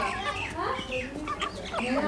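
Chickens cluck in a busy, overlapping chorus close by in a village farmyard in Sawabi, with goats nearby and a person talking over the hens.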